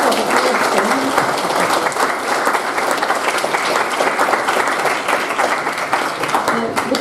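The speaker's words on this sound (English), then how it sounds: "Can we give, please, Jack and Aaron a round of applause for this?" An audience at a university music event applauds, a dense, sustained wash of clapping from many hands that carries steadily from start to finish, with a voice briefly audible amid it.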